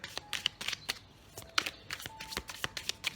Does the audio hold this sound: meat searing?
no